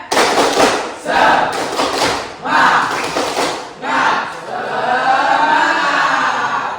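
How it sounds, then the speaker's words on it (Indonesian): Schoolchildren repeat the 'tepuk semangat' clapping chant together, with close, loud clusters of rhythmic claps mixed with chanting voices that close in a drawn-out collective shout. "Oke, sekali lagi. Tepuk semangat"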